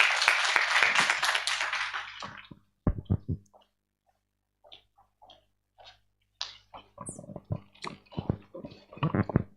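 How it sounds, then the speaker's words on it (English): Brief applause for a speaker at an African BioGenome Project regional workshop, a few seconds of scattered clapping that fades out, followed by quiet and a voice speaking. "Let's give her a round of applause as she comes."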